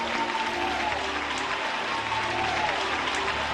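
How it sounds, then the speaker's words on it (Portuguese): Congregation at an evangelical Congregational church in Bento Ribeiro, Rio de Janeiro, applauding in steady, dense clapping that fills the whole hall. "Aplauda o nome do Senhor Jesus e tome o seu assento."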